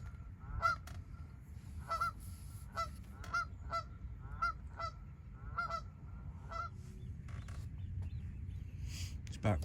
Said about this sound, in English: Goddamn noisy geese.